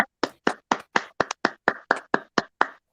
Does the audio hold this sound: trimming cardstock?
no